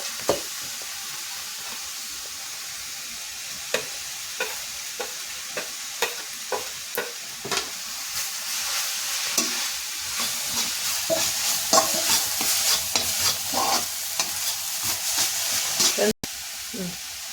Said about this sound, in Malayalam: തേങ്ങയെ നന്നായിട്ട് ഇളക്കി കൊടുക്കാം.